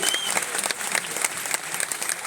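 Audience at a university Kisan Mela farmers' fair inauguration applauding, a dense, continuous patter of many hands clapping that stays steady and fairly loud throughout.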